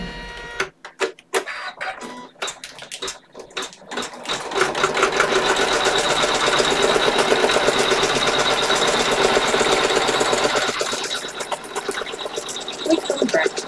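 An embroidery machine stitches an in-the-hoop notebook cover. A few scattered clicks and knocks come first, then the machine settles into a loud, steady, rapid needle chatter for about seven seconds before easing off, close by.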